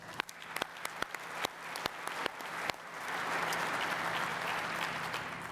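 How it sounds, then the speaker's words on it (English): An audience applauds award winner Tom Adcock at an air traffic controllers' training awards ceremony, starting with scattered sharp claps and then swelling into full, sustained applause. "We got to give Tom a round of applause."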